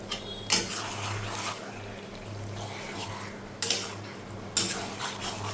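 Mutton being stirred in a pot with leftover ginger, garlic and chili marinade paste, with a steady low cooking hiss and a few sharp scraping clanks of the spoon against the pot near the start and end.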